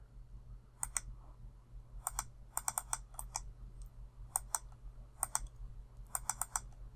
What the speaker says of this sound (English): I already looked up the codes, so I'm just going to type them in